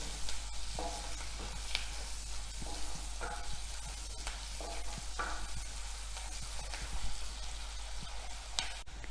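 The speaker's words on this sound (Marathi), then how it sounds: "कांदा चांगला ब्राऊन होईपर्यंत भाजून घ्यायचा आहे" Onions fry in oil with a steady, close sizzle until dark brown, as a utensil stirs them in irregular scraping strokes for dalcha rice; no one speaks.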